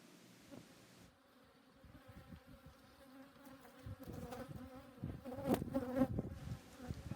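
Dense, steady buzzing of many honey bees close by on a hive frame, a low droning hum that swells louder toward the end, with no talking.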